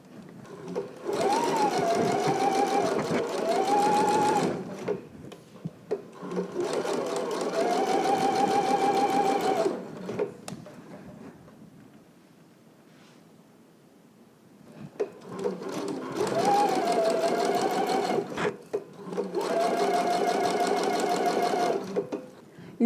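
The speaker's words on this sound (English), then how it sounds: "we have stitched really close to the fold" A sewing machine runs in four long stitching bursts, stitching a narrow baby hem close to the pressed fold of fabric, with short pauses between runs where the whirring motor drops away.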